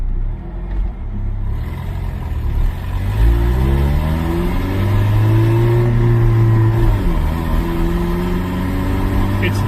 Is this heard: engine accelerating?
yes